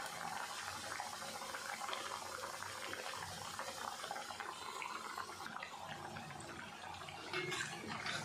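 Potato pieces deep-fry in hot oil for a cheesy potato dish, giving a constant soft bubbling and crackling hiss at low volume.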